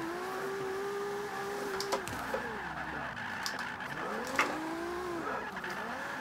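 A car drifts in Forza 5 with a steady engine drone and long wavering tire squeal that slides up and down in pitch, punctuated by a few brief clicks, fairly quiet and continuous without talk.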